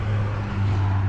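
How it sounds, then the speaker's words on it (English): Steady road traffic noise from a nearby highway, a continuous broadband roar with a low hum underneath, filling the whole moment with no speech. "Sorry about the road noise, I'm right by the highway"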